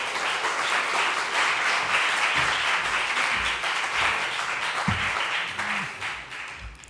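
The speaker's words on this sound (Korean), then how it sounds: "우리 나오실 때 뜨거운 박수로 맞이해 주시면 감사하겠습니다" A church congregation at a combined young adults' Sunday service gives sustained applause welcoming a professor to the stage, steady and full before thinning out toward the end.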